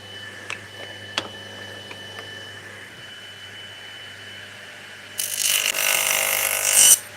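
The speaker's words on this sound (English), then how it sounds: "Let's do a bit of squaring up on the old DeWalt radial arm saw" An old DeWalt radial arm saw cuts into a board while squaring up an edge in a home woodworking shop, a loud hissing, whining burst of about two seconds following a few faint knocks and a quiet hum.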